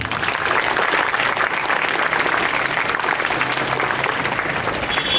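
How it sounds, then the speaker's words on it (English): An audience at a school youth parliament event claps steadily for the student team, a dense, even round of applause filling the room without pause. "Please give them a big clap."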